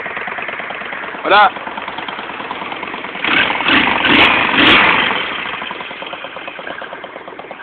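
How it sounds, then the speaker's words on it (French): A custom motorcycle engine idles steadily nearby with a ticking valve train, the mechanical chatter rising briefly in a light rev, while someone speaks French over it. "quel joli bruit là-dedans. T'entends les soupapes."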